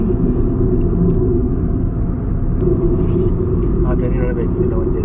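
A car drives along the outer ring road, a loud, steady low rumble of engine and road noise from inside the vehicle that holds evenly throughout, with a few faint clicks near the end.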